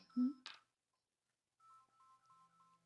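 A telephone sounding during an indoor session, a short series of soft electronic tones that follow a brief burst of noise and then a pause, fairly quiet and close.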